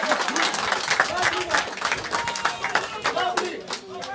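Crowd clapping at a gathering with family members, a loud mix of scattered hands and crowd voices overlapping throughout, busy and close.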